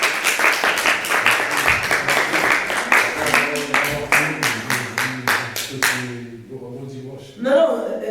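A church congregation claps along in quick, steady rhythm, loud and close, for about six seconds before the clapping stops and voices take over.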